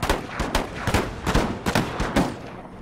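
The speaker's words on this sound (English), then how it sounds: "On the puckle guns, I think that's what is shooting." Puckle guns firing in a Total War: Empire battle: a steady run of loud, sharp gunshot bursts about every quarter second, one after another like rapid early machine-gun fire, with no talking.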